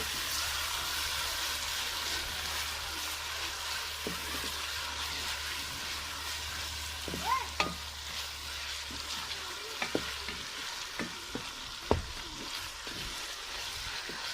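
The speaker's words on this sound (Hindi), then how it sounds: "ये अदरक और लहसुन ये भी थोड़ा हम भून लेंगे" Ginger and garlic sizzle and fry steadily in a pan for a chicken tomato karahi, a continuous crackling hiss with occasional light stirring clicks and taps, fairly quiet and close.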